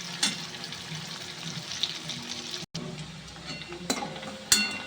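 Chicken popcorn fries in hot oil in a home kitchen, giving a steady, soft sizzle with occasional clinks and stirring knocks from a utensil.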